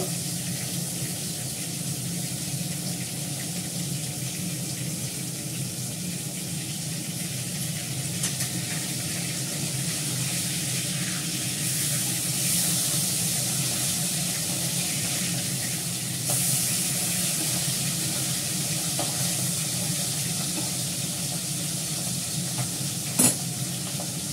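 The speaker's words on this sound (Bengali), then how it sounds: "ভালো করে লাল করে ভেজে নেব।" Food frying in a pan until browned gives a steady, close sizzle and hiss with faint stirring and occasional light scrapes, continuous throughout with no talking.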